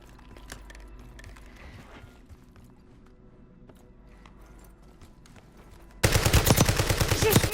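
In the video game Call of Duty Warzone, quiet clattering movement and faint in-game sounds give way to a sudden loud burst of rapid automatic gunfire for the last second and a half.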